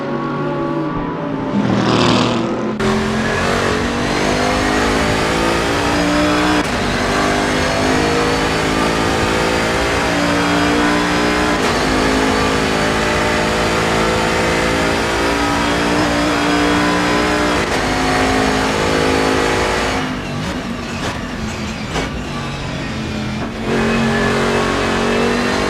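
GT3 race cars on the final lap at Mount Panorama, Bathurst, engines roaring loudly and continuously with rising and falling revs as cars pass close by, a brief quieter moment at the start and gear-change bursts near the end.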